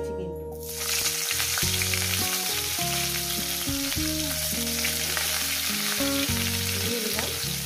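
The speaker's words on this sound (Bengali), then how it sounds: "এই তেলের মধ্যে আমি দিয়ে দেবো ফুলকপিগুলো" Cauliflower florets frying in a small amount of hot oil over a medium gas flame give a steady, loud, close sizzle that carries from start to finish, with no talking.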